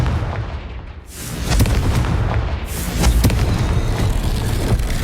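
A Confringo fire spell cast in Hogwarts Legacy bursts into a loud, booming explosion with a rolling, crackling rumble that carries on for several seconds, close and dense with no voices.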